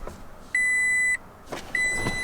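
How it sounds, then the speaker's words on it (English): A 3rd generation Toyota Tacoma gives a warning chime during a front camera install: two sustained high electronic beeps, the first lasting about half a second, the second starting after a short pause, clear and close inside the cab. "Close this so we don't get any more beeping."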